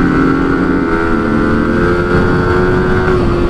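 Two KTM Duke 200 motorcycles and a Yamaha R15 riding off through a city, a loud, steady engine drone with a sustained hum, close to the microphone and without any voices.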